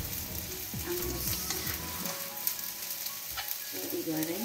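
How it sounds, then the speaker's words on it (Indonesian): Small anchovies sizzle in a little hot oil in a pan while being stirred, a steady close frying hiss with occasional scraping clicks of the spatula throughout. "Kita goreng ikan terinya dengan minyak sedikit."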